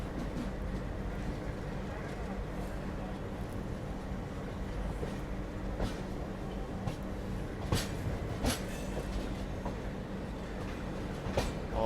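Magadh Express running on tracks near Shivaji Bridge on its approach to New Delhi station, heard as a continuous low rumble with scattered clicks and rattles from wheels and carriages, steady and fairly close, with no voices.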